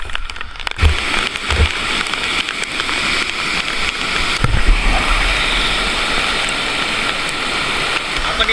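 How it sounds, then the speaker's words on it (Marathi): Water pouring down the Necklace waterfall at Bhandardara, a dense continuous rushing roar heard close by, with a few low thumps and handling bumps early on and no speech. "पण इथं पाण्याचा फ्लो जास्त आहे, त्याच्यामुळे तिकडे जाऊ शकत नाही."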